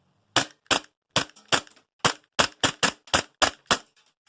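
Eleven sharp, close gas-blowback shots from a Walther PPQ VFC Umarex airsoft pistol, fired in an uneven rhythm with short gaps, each crack clean and brief against near silence.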